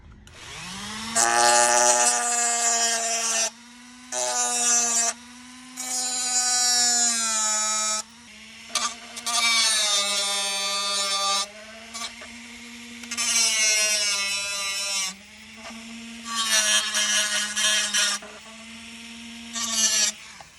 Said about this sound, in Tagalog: gagamit naman ako ng rotary tools para grinderin yung mga matutulis na parts